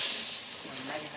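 Water boils off in a pan of chicken curry being cooked without added water or oil, giving a soft, steady hiss that stays quiet and uninterrupted for about a second.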